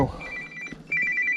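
Mobile phone ringing outdoors at a canyon, a short electronic ringtone with bright repeating trills, fairly close and clear.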